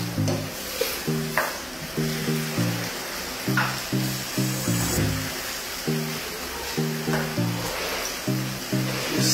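Onions stirred in a pan while cooking for smoked chicken spaghetti, a steady sizzle under a repeating rhythmic scraping and clatter of the utensil, close and fairly loud, with no speech.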